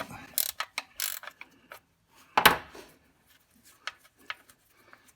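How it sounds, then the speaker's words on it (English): A 14 mm ratcheting wrench turns the oil drain bolt on a 2010 Lexus RX350, giving quick bursts of close, dry clicks in uneven runs, with a louder rasping stretch in the middle and scattered fainter ticks after. "I'm just using a 14 millimeter. This is actually a ratcheting wrench, but you could use a socket as well."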